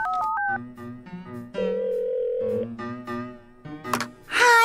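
Phone number dialed in an animated cartoon: a quick run of touch-tone beeps of shifting pitch, then a long steady tone and more beeps, ending in a brighter burst, loud and close with no talk.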